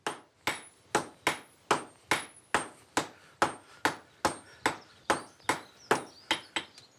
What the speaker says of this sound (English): Peter and Martin will hammer the iron flat and then bend it at 4 corners, making a stirrup shape.